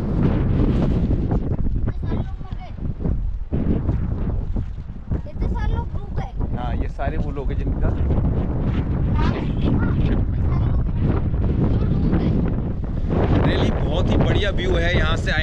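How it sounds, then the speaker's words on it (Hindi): Strong cold wind at the Khukri War Memorial in Diu buffets the microphone in loud, continuous gusts, roaring and rumbling throughout, with faint voices partly buried beneath it. "वॉर मेमोरियल से बहुत ही ठंडी ठंडी हवा चल रही है"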